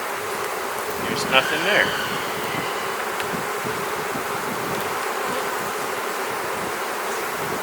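Honey bees buzz in a dense steady drone from an opened hive while a queen is installed, close and continuous, with a person speaking briefly over it.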